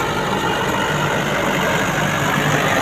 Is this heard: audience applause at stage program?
no